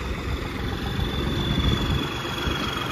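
A New Holland 3630SE tractor hitched to a cultivator runs in a steady idle, its engine giving a continuous low, rumbling drone with mild vibration and no speech.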